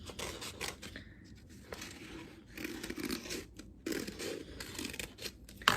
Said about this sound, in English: now I'm just using it to cut all the way around